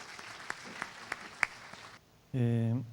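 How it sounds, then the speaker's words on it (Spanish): Scattered claps from an audience at a Peruvian textile and apparel industry conference, a handful of separate hand claps over a low murmur that die away into near silence before a voice starts. "Por favor, un fuerte aplauso para nuestro expositor."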